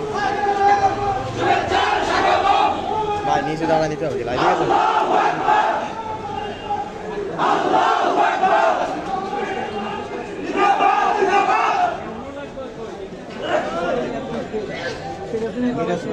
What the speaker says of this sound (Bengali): সেখানে নেতাকর্মীরা কিন্তু স্লোগান দিচ্ছেন